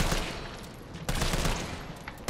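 Rapid video-game gunfire from Resident Evil 3, a dense fusillade of shots with a couple of sharper, louder bursts punching through, close and continuous over a short stretch without talk.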